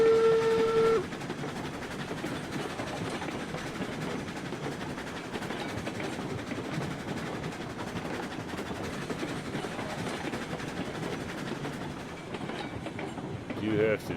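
A steam locomotive in the RailRoads Online game opens with a brief whistle toot, then runs on with a steady rumbling chug and rail clatter, fairly loud and even, with a faint whistle returning at the end.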